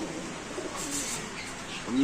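Soft cooing of racing pigeons at a market amid a noisy background, with murmured voices nearby.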